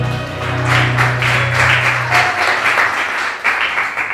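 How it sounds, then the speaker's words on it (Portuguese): A crowd claps and applauds continuously, loud and close, with a low sustained tone underneath during the first half. "Palmas do nome de Jesus."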